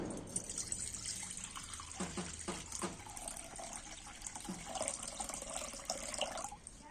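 Water is poured into a kadai, a cooking pan set on a stove, in a faint, close, gurgling splash that runs for a few seconds and then thins into scattered drips and light clatter.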